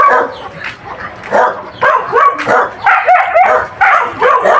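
Several dogs bark and yip in quick, overlapping bursts, close by and fairly loud, continuing throughout, on a small rabbit farm.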